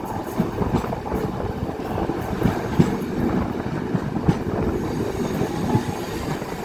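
A passenger train running along the tracks, a steady close rumble with rhythmic clickety-clack of wheels over rail joints and faint squeals, alone without talk.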